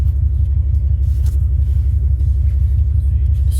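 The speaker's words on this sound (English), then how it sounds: "I'll give you one good rev up before I end the video." A 1996 Dodge Ram 1500 4x4 pickup with a 5.9-liter V8 Magnum engine rumbles loudly and steadily up close, its deep low throb holding constant with no talk over it.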